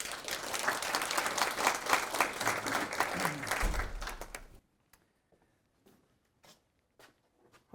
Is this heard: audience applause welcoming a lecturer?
yes